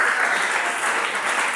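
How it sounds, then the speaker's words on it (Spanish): A church congregation bursts into dense, sustained applause, a continuous wash of many hands clapping at once with no voices standing out. "Dele ese aplauso al Señor con el alma."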